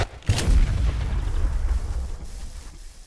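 Gunfire booms in the video game Garry's Mod during a fight with warrior bugs: a loud, low, rumbling burst of shots begins sharply and rolls on heavily before slowly tapering off.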